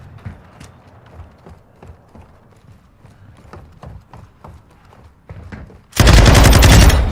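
Hip-fire gunfire in Modern Warfare 2 multiplayer: a quick series of sharp shots across several seconds, then a sudden loud, sustained roar of rapid automatic fire at the end, close and dominant.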